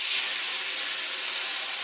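Marinated giant river prawns hiss loudly as they hit hot mustard oil in a village-style kitchen, a dense, even sizzle held for under two seconds with no voices.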